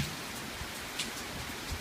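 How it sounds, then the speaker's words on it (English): Steady rain patters down in a dense, even hiss, with a few louder drops standing out. "we are now getting the rain"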